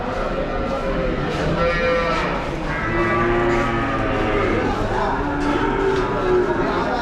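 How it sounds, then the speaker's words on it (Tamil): Large cattle lowing at a cattle market in Vaniyambadi, several long drawn-out moos overlapping close by, with a little background crowd noise between calls. "நல்லா பெரிய சைஸ் மாடு"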